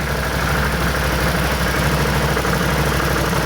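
The engine of a 2018 Can-Am off-road vehicle runs in gear, a loud, steady, rough mechanical drone with a throbbing low rumble throughout and no speech.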